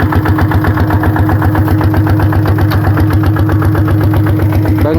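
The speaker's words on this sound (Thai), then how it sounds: "แถมกับรถไถนาซิ่ง" Souped-up farm tractor engine running loud and close on a morning ride, a rough rhythmic chugging with steady pulsing throughout and no pauses.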